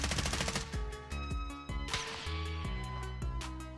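Video game battlefield gunfire: rapid automatic bursts with sharp, loud, closely spaced shots, then a few separated heavier reports, with no talking.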